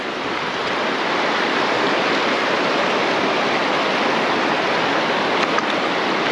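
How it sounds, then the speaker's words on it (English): A strong, deep river current rushes steadily, a loud continuous broadband roar of flowing water with no voices. "This current it's too strong, the water deep."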